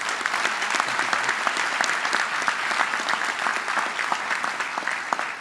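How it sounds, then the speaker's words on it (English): A crowd at a university convocation ceremony claps steadily and fairly loudly for several seconds, a dense, even patter of applause with no voices standing out. "Let's give them all a round of applause."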